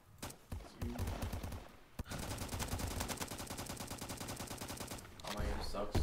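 Rapid automatic fire from a G3 Rubelite rifle in Roblox Bad Business crackles in long, dense bursts after a brief opening volley, loud and close with a short pause between strings.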